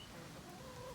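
A pet chicken named Taco clucks softly and continuously at close range while eating mealworms in a garden, low and steady with no talk over it.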